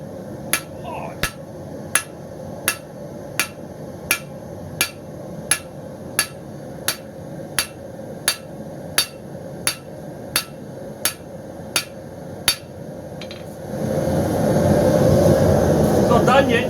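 Sharp, evenly spaced hammer blows ring out on hot steel round bar being forged into a knife, about one strike every half second, until a broad roaring rush like a forge blower takes over at the end.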